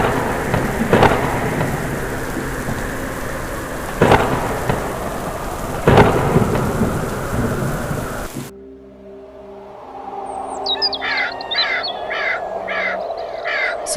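Steady rain with loud, sharp thunder cracks at about one, four and six seconds, then a quieter stretch of birdsong and light rain, with crows calling, on a cold, rainy day.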